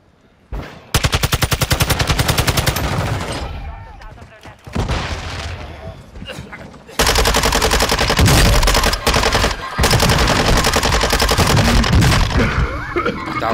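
Rapid automatic gunfire in the Ashika Island battle royale match, loud bursts of machine-gun fire repeating close by with brief gaps and occasional heavier booms.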